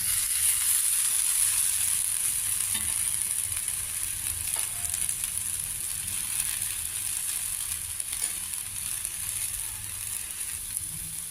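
Millet dosa sizzles in hot oil on a pan as its second side cooks, a continuous bright, dense frying hiss that stays fairly even and close throughout, with no talk.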